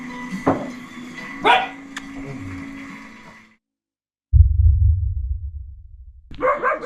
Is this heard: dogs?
yes